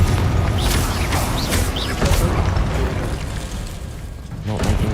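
Confringo spell blasts in Hogwarts Legacy go off as a series of loud booms and crackling bursts, with sharp impacts and creaking debris layered over a dense game soundscape.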